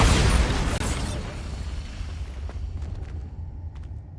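A Bombarda explosive spell goes off in Hogwarts Legacy, opening with a loud, broad blast that rumbles and slowly dies away into a low roar, with a few faint clicks toward the end.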